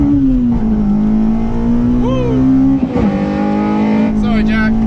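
A Honda race car drag racing at Santa Pod, its engine holding a loud, steady, buzzing drone up close with brief pitch sweeps and a dip in the middle. A person talks over the engine.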